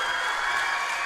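A basketball crowd at a school semi-final cheers and applauds a three-point shot, a dense, steady wash of voices and clapping that stays loud and even throughout the short burst.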